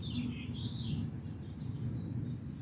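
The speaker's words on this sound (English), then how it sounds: "I think that bird was telling me something. Did you hear him?" Faint, high bird chirps flicker briefly near the start over a steady low background rumble, with a few more thin calls later on.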